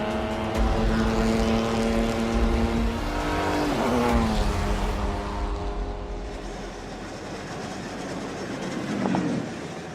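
A car races on a bumpy banked track, its engine droning loud and steady, rising and falling in pitch with shifts, with rumbling road noise throughout.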